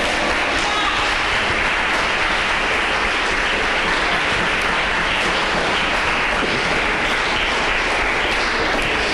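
A church congregation bursts into sustained, dense applause that fills the room, loud and continuous from start to finish with no clear speech on top.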